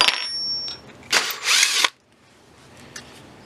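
A power drill whirs in two short bursts as it drills into metal, the second one longer, with a brief tap at the start and quiet room noise afterward.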